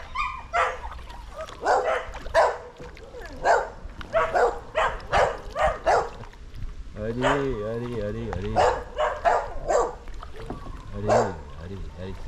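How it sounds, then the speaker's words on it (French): Dogs bark repeatedly at kayakers from the shore, sharp loud yaps and whimpers in irregular bursts, with people talking throughout on the water. "nous sommes confrontés à des chiens féroces"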